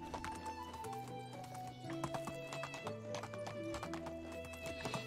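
A horse ridden across open ground in Medieval Dynasty clip-clops steadily with evenly spaced hoofbeats. Soft game music plays under the hooves, and a whinny rises briefly.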